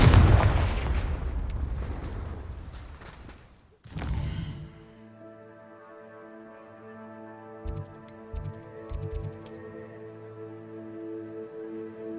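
Spell blasts cast in Hogwarts Legacy: a loud burst of fiery explosion at the start that fades out, then a few brief muffled impacts over sustained magical tones.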